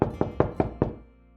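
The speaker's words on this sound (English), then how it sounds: "He heard a knock at the door." Five firm, evenly spaced knocks land on a door, hollow thumps close up that come in a quick steady row and then fade into quiet.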